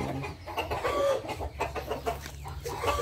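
A chicken clucks several times close by, short throaty notes over a low background hum, with no one speaking.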